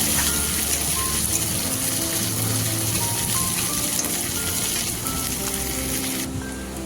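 Sliced onion and slit green chillies sizzle steadily in hot oil in a pan, a continuous close frying hiss with no voices.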